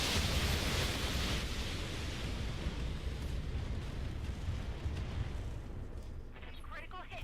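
Mech weapons firing in the video game BattleTech fill the whole stretch with a dense, continuous rumbling roar of bombardment. The level stays loud and steady and eases slightly toward the end.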